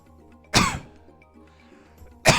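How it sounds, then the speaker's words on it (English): A streamer gives two sharp, harsh coughs a couple of seconds apart, close to the microphone, with quiet game sounds murmuring in between. "I need to, like, mute my mic on here before I start coughing"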